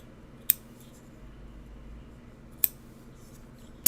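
Scissors snip through Japanese fabric while trimming a small sling bag, giving three separate sharp cuts spaced a couple of seconds apart, close and crisp against a quiet room.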